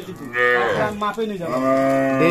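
A milking cow moos loudly and close by, one long, drawn-out low call that rises and falls.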